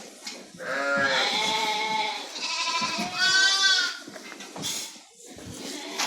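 Sheep in a crowded farm pen bleat loudly and close, several overlapping wavering cries one after another with brief gaps.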